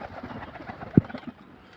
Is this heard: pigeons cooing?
yes